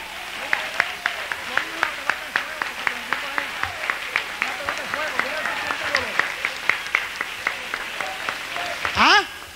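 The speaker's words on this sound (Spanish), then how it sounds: "Dale un aplauso a Cristo" A church service audience claps for Christ in a fast, steady rhythm of distinct beats, close and fairly loud, while a preacher's voice rises and falls over the clapping.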